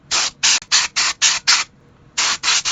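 Short, sharp bursts of aerosol spray hiss over an opened GameCube circuit board, six quick blasts in a row, a brief pause, then three more, loud and close.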